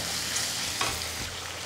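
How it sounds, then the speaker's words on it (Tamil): Onions, tomatoes and garlic sauté in a pan for a keerai kuzhambu, giving a steady, fairly quiet sizzle and frying hiss throughout, with a short stir noise partway. "இந்த பூண்டு தக்காளி ஒரு 3 நிமிஷம் வதக்கணும்"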